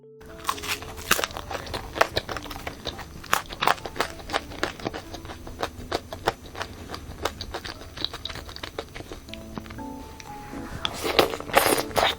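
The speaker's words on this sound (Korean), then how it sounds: "밑에 도우 부분도 완전 고소하고 바삭바삭합니다" Crisp crunching of a classic ketchup-flavoured combination pizza's crusty dough, repeated close-up bites and chews in a steady irregular rhythm with sharp crackly transients and no talking.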